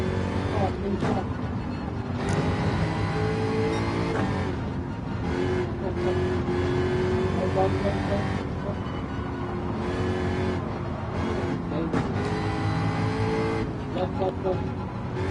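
Jaguar F-Type Gr3 race car in Gran Turismo 7 on the PS5 Pro, a World Touring Car 700 race: continuous engine roar with revving and gear shifts throughout, under steady commentary.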